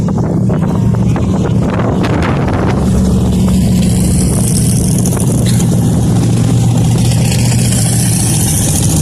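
Race cars circling the oval at Big O Speedway, a constant loud engine roar with passing surges, heavily buffeted by wind noise on the microphone.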